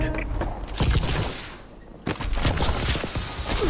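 Rapid gunfire in a Call of Duty: Advanced Warfare multiplayer flag match on the Swarm map, dense bursts of shots crackling close and loud with a short lull midway before the firing resumes.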